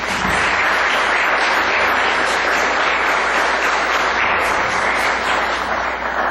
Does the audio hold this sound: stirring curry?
no